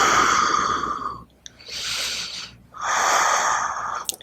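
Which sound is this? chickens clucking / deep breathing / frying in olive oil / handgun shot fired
deep breathing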